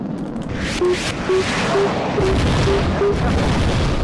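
A building explodes in the combat flight game Sky Gamblers: Afterburner with loud, rolling, rumbling booms. A row of short, evenly spaced beeping tones sounds over the blasts.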